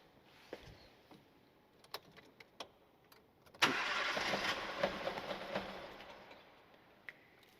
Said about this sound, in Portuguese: vamos ligar a ignição e depois dar ao arranque